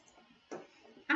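Two crisp computer mouse clicks spaced about half a second apart during AutoCAD drafting, close and fairly quiet against a faint background hum.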